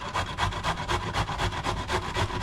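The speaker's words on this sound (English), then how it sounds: "So you can use your grater and just use the big part of your grater." Raw cauliflower is rubbed against the large holes of a kitchen grater in quick, even rasping strokes, close and clear, with no talking.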